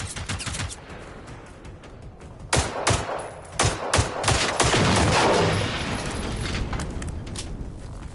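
Bursts of gunfire in a PS4 video game, several sharp shots clustered in the middle of the stretch, loud and close over a steady game background.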